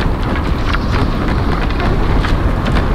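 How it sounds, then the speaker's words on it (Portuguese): Strong wind blows without pause in the video game Never Alone, a loud, dense, steady roar with slight gusty swells that fills the whole stretch. "Esse vento não vai parar, eu acho."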